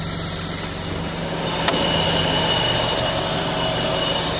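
A Hytrans HS150 fire pump unit's engine idles at a steady low hum with a faint high whine. It runs evenly throughout, with one brief click partway through.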